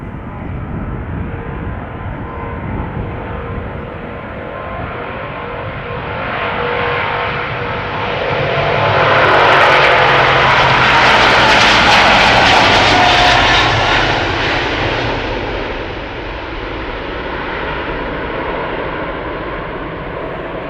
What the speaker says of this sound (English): This 777-200 is 17 years old.